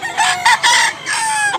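A gamecock rooster offered for sale in South Cebu crows loudly and close by, one drawn-out call in several bursts, with no other sound around it.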